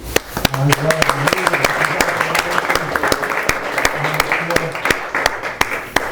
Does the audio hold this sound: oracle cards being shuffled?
no